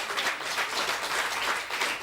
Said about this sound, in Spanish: Fuerte el aplauso para Mirta Legrand